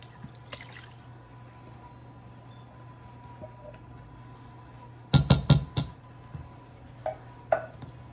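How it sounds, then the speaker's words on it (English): A full can of coconut milk poured into cassava pudding mix in a home kitchen, heard as a short cluster of loud, close splashy glugs followed by a few softer drips against a quiet background hum. "I have a whole can of coconut milk that I'm adding"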